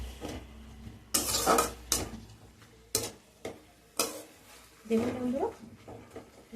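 A spoon stirring turmeric in a cooking pot for a jute-leaf lentil dish, producing several sharp clinks and scrapes against the metal in separate bursts over a faint background sizzle.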